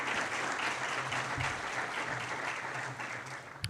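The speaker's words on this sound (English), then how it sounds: "Round of applause for them, please." Faint, steady audience applause at a city's State of the City event, a continuous patter of clapping that holds for several seconds and thins out at the end.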